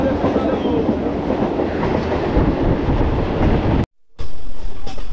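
A local passenger train running toward Namkhana, with a loud, continuous rumble and rattle of wheels and carriages that cuts out briefly near the end and then returns.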